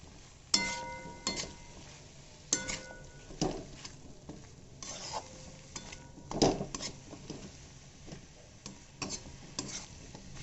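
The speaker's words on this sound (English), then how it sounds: "while you are cooking the masalas, you must mix it continuously" Mushrooms and masala being stirred in a cooking pan for mushroom biryani, with repeated scraping and clanking strokes of a utensil against the pan over a faint steady sizzle, no talking.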